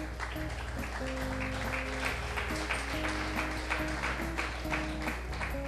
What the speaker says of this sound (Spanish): Démosle un aplauso al Eterno.